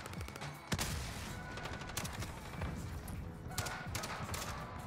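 Dragunov sniper rifle fire in Modern Warfare during a multiplayer match, with sharp gunshot cracks standing out over a dense bed of ongoing gunfire and game noise, one loud report early and more shots scattered later.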